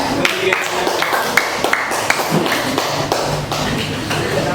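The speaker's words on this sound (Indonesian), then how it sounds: "tepuk tangan dulu untuk kelompoknya Martin." Classroom applause for a student group after a presentation, a brisk burst of many hands clapping fairly close, with scattered taps and thuds over several seconds.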